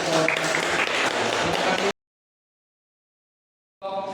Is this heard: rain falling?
no